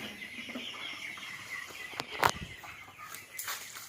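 Village chickens clucking softly while pecking at grain feed from a hanging feeder, faint scattered clucks with a brief louder squawk and a flutter partway through, heard outdoors at a modest distance.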